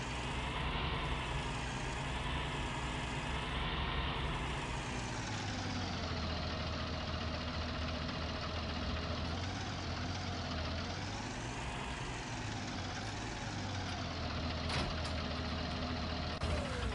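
Steady, loud drone of a tractor engine idling in the video game Farming Simulator 19, a continuous low rumble with slowly shifting tone and no talk.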